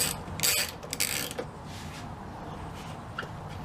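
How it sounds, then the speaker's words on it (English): A hand ratchet loosening screws on a car's aFe Takeda intake assembly for an FR-S/BRZ, giving two short bursts of rapid clicking followed by quieter creaks and a few faint ticks, nearby, with no speech. "You're going to take off 3 screws"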